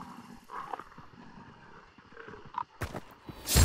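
Dogs growl and snarl in the shooter game Hunt: Showdown, with low rough rumbles rising and falling at close range before a sharp, loud burst of noise at the end.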